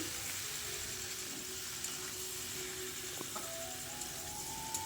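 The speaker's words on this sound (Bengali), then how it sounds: "ভালো করে ভেজে নিচ্ছি।" Pumpkin and potato pieces frying in a pan, a soft continuous sizzle with a few faint utensil clicks, no voices.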